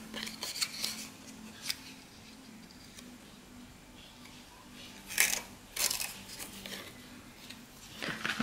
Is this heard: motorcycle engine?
no